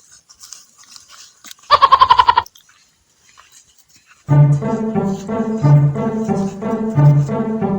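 A goat bleats once in a short wavering cry, then after a pause a crunching, rasping scrape continues steadily.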